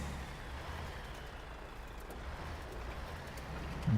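Truck engine in the off-road driving game MudRunner, a low steady rumble droning quietly and evenly throughout, with a faint clunk right at the end and no talk.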